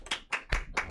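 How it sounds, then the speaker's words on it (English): Short round of applause in a county highways, waterways and building committee meeting for an absent colleague: a few sparse, near hand claps in uneven rhythm, no talk. "I really think he needs a round of applause for that one."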